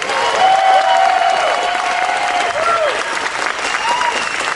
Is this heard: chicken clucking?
no